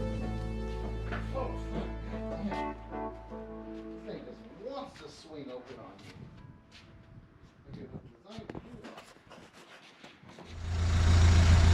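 A 1930 Model A Ford runs with a low, buzzing engine drone at first, then the engine note thins among scattered knocks and rattles, and a louder rushing rumble swells in near the end.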